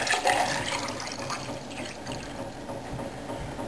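Water gushes into a 16-ounce drinking glass in a steady, close, hissing splash that keeps going without a break, with no voices.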